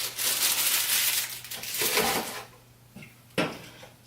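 Dry chocolate cake mix poured and shaken into a mixing bowl, a close, soft rushing hiss that runs for about two seconds and then fades, followed by a couple of light knocks.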